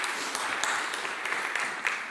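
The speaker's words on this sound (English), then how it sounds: "I think they deserve a really big round of applause" Applause from a church congregation at an All Saints service, a steady even wash of clapping with scattered sharper claps, moderately distant and continuous throughout.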